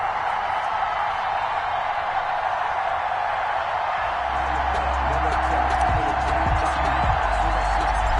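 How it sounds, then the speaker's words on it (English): A dense stadium crowd at FedEx Field roars continuously in a football video game, a loud, unbroken wash of cheering with faint bursts and murmurs underneath. "They love their football in this part of the country, and this crowd is ready to go"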